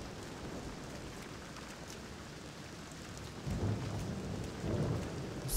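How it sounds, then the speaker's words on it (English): Steady video-game rain pours throughout, with low rumbles of thunder swelling twice toward the end, no voices. "thunderstorm."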